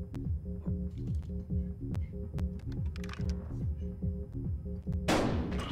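A shotgun blasts once in the tabletop-style game Buckshot Roulette, a sharp loud report near the end following a steady mechanical rhythmic hum and light clicking.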